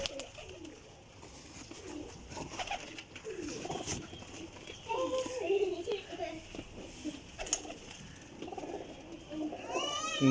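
A Golden Ferozpuri pigeon coos softly and intermittently in the background while someone speaks over it and a voice is faintly heard nearby.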